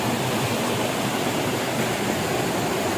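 Hot-water mountain river on the Gede Pangrango trail, flowing in a dense, steady rush of broadband water noise, close and continuous with no voices.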